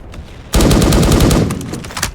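Rapid automatic gunfire from a gun in the Roblox game Strike: Warfare erupts suddenly and loud, a dense continuous rattle of shots lasting under two seconds.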